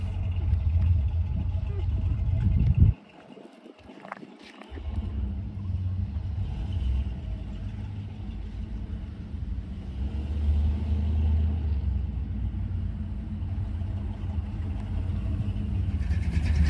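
A 1972 Chevrolet C10 pickup with header wrap runs while driving around the block, its steady low engine rumble heard from inside the cab, briefly dropping out near the start, with faint talk in the background.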